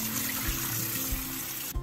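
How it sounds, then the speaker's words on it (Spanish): Water that was used to cook fish is poured out of a pan into a sink, a steady splashing rush heard up close and alone, ending abruptly. "Ahora botamos el agua del pescado."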